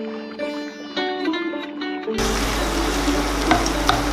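Chopped tomatoes with salt frying in a pan for palak paneer: a brief tonal musical passage gives way to a steady close sizzle with a few scattered stirring clicks.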